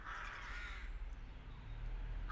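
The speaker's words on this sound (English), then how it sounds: "As you can hear, some very noisy birds who have a lot of nests up here." Noisy crows caw from their nests in an old churchyard, a burst of harsh calls up front followed by scattered fainter caws over outdoor rumble.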